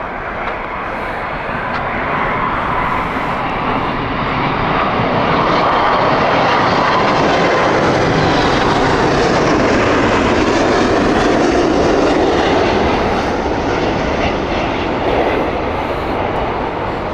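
Airliner in oneworld special livery, likely a 777, at Heathrow, its engines building into a loud, broad jet roar that swells, peaks midway and stays strong to the end, with no talk.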